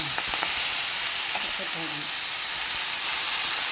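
Radish and onion stems, amaranth greens and cucumber peel fry in a pan with horse gram, cumin, pepper, fenugreek, dried chillies and curry leaves, a loud close sizzle with a few scraping stirs early on.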